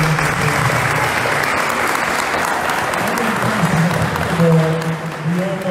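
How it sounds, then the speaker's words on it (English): Audience applause fills a hall of fame induction ceremony, steady and dense clapping from a large crowd throughout, with a faint voice surfacing near the end. "applause."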